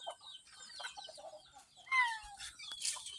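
Chickens on a farm in Mindoro, Philippines, clucking in short, scattered calls that come and go at moderate distance, with a sharper squawk or two toward the end against quiet rural background.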